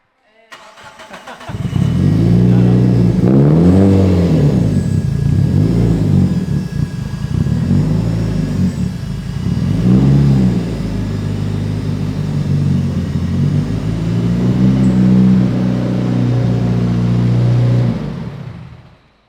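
A big-turbo Mitsubishi Evo IV revs hard on a rolling road, its engine note rising and falling through repeated loud sweeps to very high RPM before cutting off, close and continuous.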